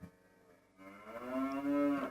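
A cow moos in one long, drawn-out call that swells louder toward the end, standing alone after a quieter stretch of background.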